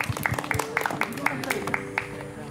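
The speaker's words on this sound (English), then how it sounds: "Everybody give a big applause for the 2 debaters" A small audience gives debaters scattered applause, sharp uneven claps ringing out in a quick irregular patter, fairly close and modest in volume, with voices murmuring underneath.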